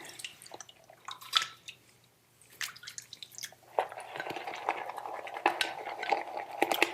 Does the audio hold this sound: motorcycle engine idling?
no